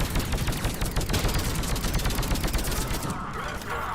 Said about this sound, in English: this sniper rifle is a half assault rifle, half shots